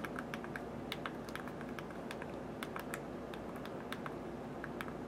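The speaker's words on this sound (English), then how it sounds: "And we can even type in." Quiet, rapid key taps from a mini keyboard trackpad remote for Android, an irregular stream of small clicks heard up close over a soft background hiss.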